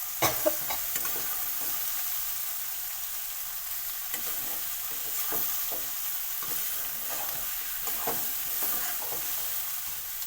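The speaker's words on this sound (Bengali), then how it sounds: "রাখা চিংড়ি মাছটা দিয়ে নেড়ে নেবে।" Shrimp frying in a pan alongside ash gourd, a steady close sizzle broken by frequent spatula stirs and scrapes, with no voices.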